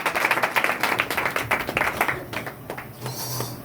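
A church congregation at a Sunday meeting in Ludhiana claps loudly and fast, a dense burst of applause that thins out and fades toward the end.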